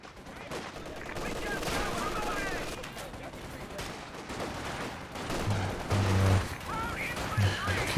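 An airdropped machine gun firing in the real-time strategy game Company of Heroes 2, with rattling bursts of automatic fire mixed with other battle gunfire and explosions, heard under a commentator's steady speech.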